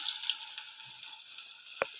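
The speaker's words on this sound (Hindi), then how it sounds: "इस प्रकार से उलट के गोल्डन होने तक इनको सेक लेंगे अच्छे से।" Lauki kofte sizzle in hot oil in a pan, a steady close frying hiss with a single sharp crackle near the end and no talk.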